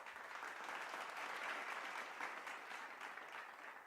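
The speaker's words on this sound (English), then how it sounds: "which I think deserves a round of applause" An audience gives a round of applause at a live fintech founders' event, a dense, steady wash of many hands clapping that holds at full strength for the whole stretch without any voice over it.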